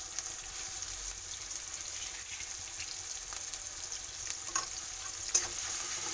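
Garlic frying in a pan for Bengali khichuri, a soft continuous sizzle with occasional stirring scrapes and a few small pops, fairly quiet and steady throughout.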